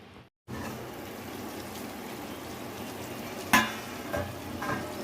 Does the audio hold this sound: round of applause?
no